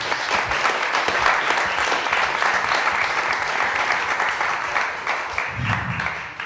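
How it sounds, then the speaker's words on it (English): Sustained applause from a dinner audience honoring the restaurant family who catered the evening, a dense, steady clapping wash that holds evenly throughout with a faint low rumble near the end. "I think they deserve a round of applause for making all this."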